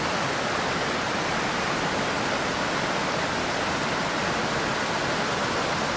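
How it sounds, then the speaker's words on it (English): A running creek with waterfalls gives a steady, dense rushing roar, close and unbroken throughout, with no voices. "Right now the creek is running"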